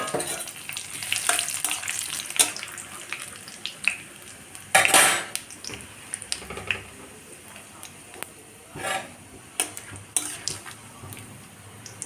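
Whole spices (crushed cloves and cardamom, cinnamon pieces, two dried red chillies, a bay leaf and cumin) temper in hot oil for a Bihari-style chicken curry, with a steady crackling sizzle and frequent metallic stirring clatter close by.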